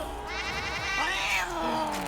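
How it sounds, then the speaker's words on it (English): A cat-shaped gun in Black Ops 3 custom zombies fires rapid warbling meows and caterwauls, several overlapping cries in quick succession, moderately loud with game noise beneath. "this is actually a cat, and it actually shoots meows"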